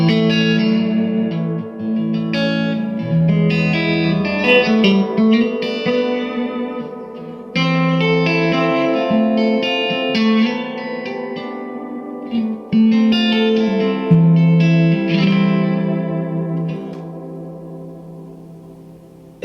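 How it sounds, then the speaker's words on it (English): An electric guitar played through a Bad Cat Cub IV 15R amp with its reverb set high, chords and single notes ringing out with a big wash of reverb, loud and continuous with no talk. "The reverb, just quickly, goes quite big, so this is on 2 o'clock."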